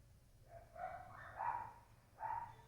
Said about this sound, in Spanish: Los perros de la vecina no ayudan tampoco.